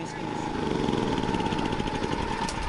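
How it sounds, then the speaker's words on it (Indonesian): A motorized coffee pulper hulls the skins off coffee cherries, giving a steady, loud engine-like drone with a constant rattling churn throughout. "saya lihat Pak Hendrik dan Asep lagi sibuk mengupas kulit kopi menggunakan mesin pulper."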